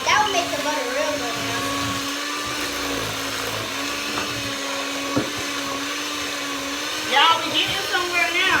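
Electric mixer whirring steadily as it beats butter for Grinch cupcakes in a home kitchen, a continuous motor drone with scraping surges toward the end, while children talk over it.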